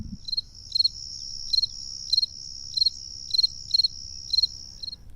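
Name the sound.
cricket high-pitched chirping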